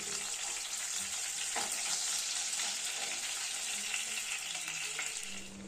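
Pieces of katla fish fry in hot oil with a steady, crackling sizzle, close and continuous, with faint stirring and no speech.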